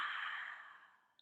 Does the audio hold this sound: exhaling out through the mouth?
yes